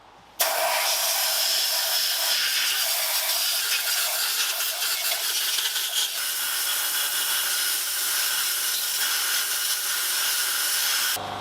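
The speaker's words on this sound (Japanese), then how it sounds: "じゃあシリンダーヘッド洗っていきます。" Kerosene sprayed or poured over a Caterham Super Seven engine cylinder head during washing makes a steady, loud, broadband hissing wash that runs nearly unbroken for the whole stretch, with no talking.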